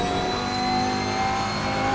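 A race car engine in a driving video game held hard on the throttle, a loud steady high-pitched whine that plays alone without pause.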